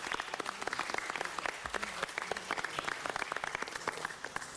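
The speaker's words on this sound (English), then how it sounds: "Give the doctor a round of applause." A room at a city council meeting gives a doctor a round of applause, a steady, moderately distant patter of many hands clapping throughout.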